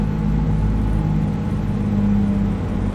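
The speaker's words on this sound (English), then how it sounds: "Yeah, that's a very adept engine brake" A heavy truck's engine brake in American Truck Simulator, on a Freightliner Cascadia 125 with an MBE 4000 engine hauling a heavy load downhill, produces a steady, loud, low droning rumble that holds throughout without pause.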